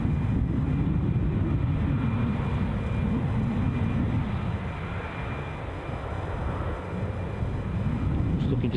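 Steady jet engine rumble from a British Airways airliner taxiing to its stand at Edinburgh Airport, an even low-pitched roar with a faint high whine, dipping slightly midway and swelling again toward the end.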